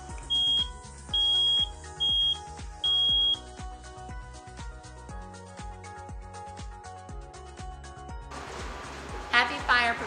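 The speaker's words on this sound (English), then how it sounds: "if the smoke alarm goes off in your hallway, that door is going to stop the smoke from getting to you until it wakes you up by the alarm sounding" A smoke alarm in a home sounds four loud, high-pitched beeps in steady succession over background music, and then a shrill burst comes near the end.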